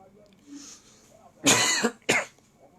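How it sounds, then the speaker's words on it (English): Two loud, harsh coughs close to the mic, the first longer and the second short, after a quiet stretch. "I've been coughing for about a week now."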